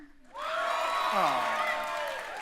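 The studio audience of a radio comedy show gives a round of applause. Clapping starts abruptly and stays fairly full and even, while whoops and raised voices from the crowd rise and fall over it.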